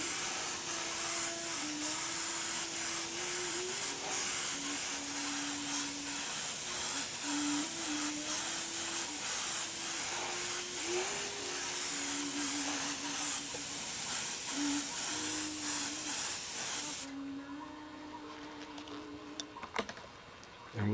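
A thin coat of clear finish sprayed from an aerosol or spray gun, a steady close hiss running unbroken for about seventeen seconds with a low droning hum beneath, then stopping abruptly into quieter room noise with a few small clicks.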